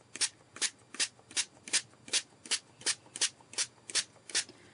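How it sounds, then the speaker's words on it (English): A Moonshadow Mist spray bottle gives a dozen quick, evenly spaced spritzes in a steady rhythm, each a sharp airy hiss, close and fairly clear over a quiet background. "Give the Moonshadow Mists a really good shake and then just spritz across the top."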